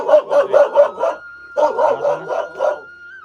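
A dog barks close by in two rapid bursts of several sharp barks each, separated by a short pause.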